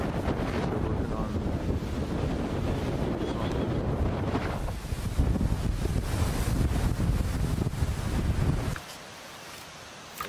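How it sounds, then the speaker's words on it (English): Strong wind buffets the microphone in loud, rough gusts for several seconds at Duck Mountain, then cuts off abruptly into near quiet. "Looks like a pretty windy day"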